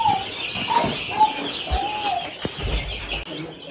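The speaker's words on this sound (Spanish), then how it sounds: "Miren los pollitos." Chickens cluck and chicks peep nearby on a ranch in Georgia in a busy, continuous chatter, with a few soft rustles and thumps.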